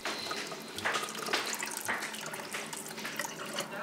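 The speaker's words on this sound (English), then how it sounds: "Take the good seeds and clean them in the sieve under running water" Tap water runs steadily over aubergine (eggplant) seeds being rinsed in a sieve, a continuous close splashing wash with small surges and no talk.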